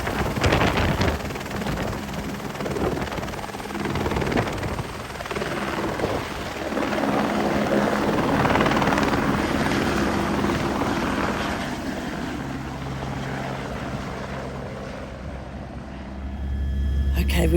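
A helicopter climbs away after takeoff over Whistler Mountain, its loud rotor and turbine roar filling the cabin steadily throughout, with wind buffeting and faint voices beneath the engine noise.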